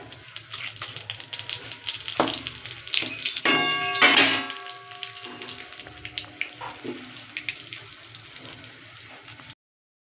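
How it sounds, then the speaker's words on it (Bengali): Cardamom pods and bay leaf dropped into hot oil for a pointed gourd curry, a close crackling sizzle that flares loudly for a moment, then settles to a quieter hiss before cutting off. "তেলেই আমি দিয়ে দেবো 2-3টে এলাচ আর একটু তেজপাতা ফোড়ন।"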